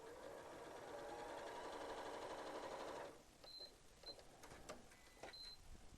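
A sewing machine stitching quilt block seams runs at a steady close hum and rapid whir for about three seconds, then stops, leaving light clicks and fabric handling sounds.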